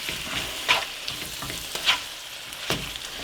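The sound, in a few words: stirring olives into pasta puttanesca sauce in pan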